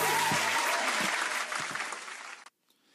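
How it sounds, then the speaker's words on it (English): Loud, dense applause from a crowd fills the clip, steady at first and then tapering before cutting off abruptly near the end, leaving near silence. "Round of applause for everyone involved."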